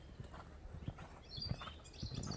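A horse's hooves clip-clop in an uneven rhythm during a trotting schooling session, soft and somewhat distant, with light thuds and faint background noise.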